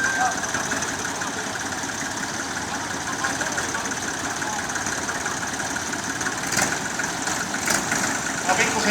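A vintage tractor engine idles steadily at a veteran machinery show in Oulainen, a continuous low rumble with a few brief louder bursts near the end.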